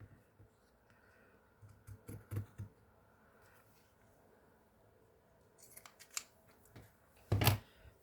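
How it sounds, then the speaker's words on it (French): Pinking shears snip paper during a papercraft folder project, with a few scattered quiet cuts followed by a louder burst of crunching snips near the end, set against a faint background. "je prends mes ciseaux crantés"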